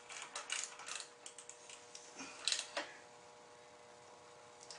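A 12mm socket wrench snugs down the backing plate screws on a Barons Big Air Kit install, giving a few quiet ratcheting clicks in short bursts with brief pauses between them.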